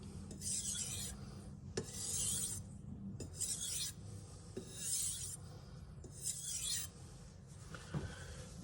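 Knife edge drawn across a Shapton Glass sharpening stone in light, near-pressureless finishing strokes, a soft close rasping scrape repeated about six times in an even rhythm with short pauses between.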